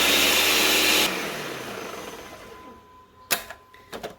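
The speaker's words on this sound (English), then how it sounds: "We're going to add another 3/4 cup sugar to our blender and pulse this until it's fine and powdery as well." A blender pulses sugar into a fine powder, a loud dense whirring burst that cuts off abruptly and decays, followed by a couple of short sharp clatters near the end.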